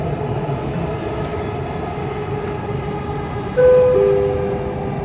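A Dubai Metro train riding between stations, with a steady rumbling roll of wheels and interior hum, near and continuous, joined near the end by a brief tonal chime or horn.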